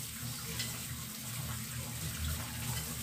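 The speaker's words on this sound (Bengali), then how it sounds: "কেটে আমি এবার মাছগুলোকে ভালো করে ধুয়ে নিচ্ছি" Steady running water splashes and gurgles close by as small mourala fish are rinsed in a kitchen, a continuous wash with low sloshing throughout.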